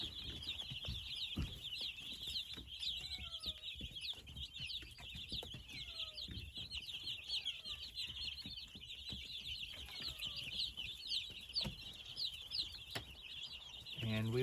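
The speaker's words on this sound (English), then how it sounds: "So it's fun to have chicks again." Chicks in a brooder under heat lamps peep in a steady chorus of faint, high chirps, with soft clucks and brief rustles mixed in.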